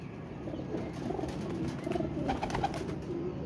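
Pigeons cooing in a loft, a dense murmur of overlapping low coos at moderate level, continuous throughout with a slight scratchy background.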